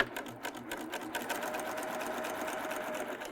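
Serger finishing its stitching along bias trim, a rapid, even chatter of needle strokes that starts slightly uneven and settles into a steady fast run, moderately close and alone.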